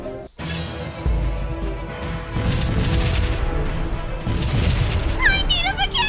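Ship cannons firing and explosions in the space battle game Sunrider, a sharp blast followed by dense, sustained rumbling booms and crashes, loud and close, ending in bright electronic chirps.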